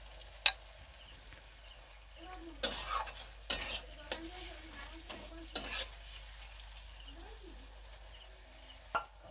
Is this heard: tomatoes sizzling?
yes